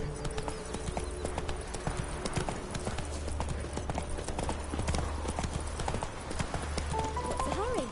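Horse hooves clip-clop at a steady walking rhythm in The Witcher 3 video game, sitting close under game music and ambience with occasional faint voices.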